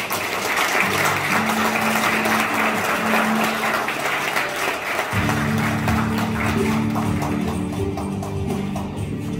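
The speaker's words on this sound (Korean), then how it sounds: "격려의 박수 보내주시기 바랍니다." Sustained applause from an audience at a Gangwon Province 4-H young farmers' association presidential inauguration ceremony, steady dense clapping throughout that thickens and grows fuller partway through, with faint background music underneath.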